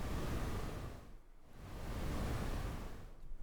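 Broadband noise synthesized in SuperCollider with a sine wave modulating its amplitude, a loud hiss that swells, dips to a quieter trough, then swells again in a slow, smooth cycle.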